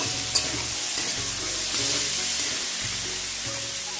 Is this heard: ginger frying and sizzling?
yes